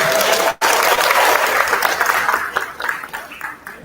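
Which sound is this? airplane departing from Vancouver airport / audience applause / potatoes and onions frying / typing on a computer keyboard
audience applause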